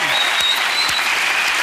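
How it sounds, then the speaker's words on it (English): Studio audience of a daytime talk show applauding a guest, a dense, loud, continuous wash of clapping with no break, close and full. "A big round of applause for Vince."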